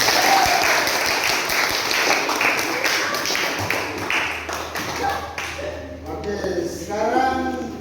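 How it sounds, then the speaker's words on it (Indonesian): Classroom audience applauding a student after a geography lesson, a dense wash of many hands clapping that carries on steadily before thinning out, with voices starting to talk near the end. "Oke, berikan aplaus untuk Patur."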